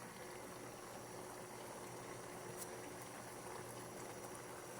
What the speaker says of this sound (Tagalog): nagsisimula pa lang kumulo